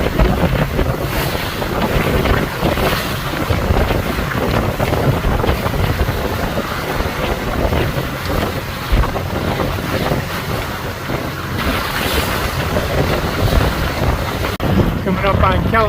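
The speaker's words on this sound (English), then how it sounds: "Wind's piped up. Got about 18 knots over the bow." Strong wind and breaking waves aboard a sailboat at sea in about 18 knots over the bow, a loud continuous rush of gusts buffeting the microphone over churning water, with a voice heard faintly in the mix.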